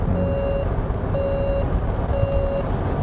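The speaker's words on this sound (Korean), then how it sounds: "이제 차선 유지 보조 시스템 해제되었습니다 하면서 이제 꺼져버리거든요" Three evenly spaced electronic beeps inside a SsangYong New Rexton Sports Khan Expedition pickup as lane keeping assist switches off, each tone about half a second long, heard clearly over steady road and engine noise.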